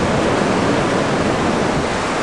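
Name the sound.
ocean waves at La Jolla Cove shore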